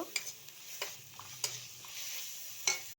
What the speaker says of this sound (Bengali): এই তেলের মধ্যে দিয়ে দিলাম পেঁয়াজ বাটা আদা রসুন বাটা এইগুলোকে একটু ভালো করে ভেজে নেড়ে নেব